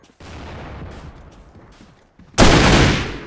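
A grenade goes off in a Counter-Strike style shooter, a sudden loud blast that rings out after a stretch of softer background gunfire and rumble.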